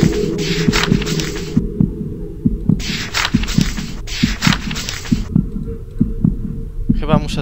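Heartbeat in the horror game The House 2 growing louder, a loud, close, regular double-thump pulse repeating through several seconds, with stretches of hissing static-like noise cutting in and out around it.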